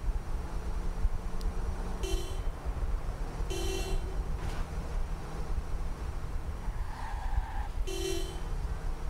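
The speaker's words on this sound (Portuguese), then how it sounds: "Ó a buzina, hein?" Car horns honking in the video game Watch Dogs, several short beeps spread across the clip over a steady background of engine and traffic noise.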